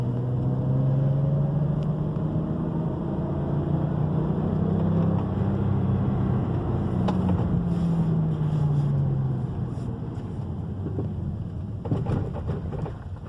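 A BMW X6 335 twin-turbo direct-injection engine running, a steady loud low drone with shifting tones, heavy rumbling noise throughout and a slight drop near the end.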